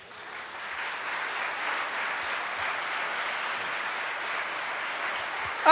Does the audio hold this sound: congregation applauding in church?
yes